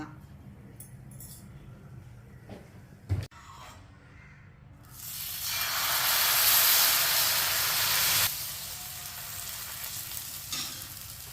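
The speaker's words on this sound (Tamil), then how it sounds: "இப்போ கிறிஸ்பியான கோதுமை தோசை நாம் இப்போ ஊற்றிருக்கோம் வேகட்டும்" Wheat dosa batter poured onto a hot pan for a crispy dosa, sizzling and hissing loudly as it fries, swelling to a steady broad sizzle for several seconds before easing off, with a sharp knock of a utensil just before.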